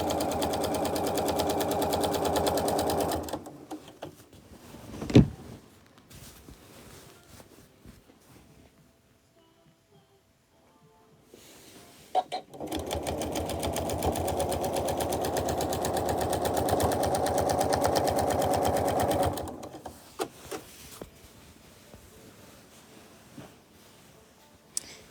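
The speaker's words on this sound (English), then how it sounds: "Then I have my sewing machine set to make a tiny invisible knot at the beginning and end of each line of" A domestic sewing machine stitches lines across a quilt in two long steady runs of whirring motor noise, separated by quieter pauses with small clicks and handling sounds, close by and without talk.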